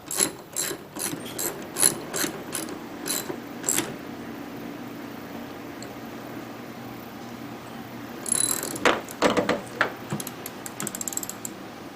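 A hand ratchet on a Chevy S10 clicks in quick, close repeated bursts while snugging a windshield wiper nut by hand, with a short pause before a final flurry of ratcheting.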